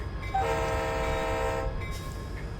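An SD40-2 diesel locomotive in Train Simulator 2020 sounds a sustained multi-tone horn for over a second over a steady engine and rail rumble, the horn cutting off abruptly while the rumble continues.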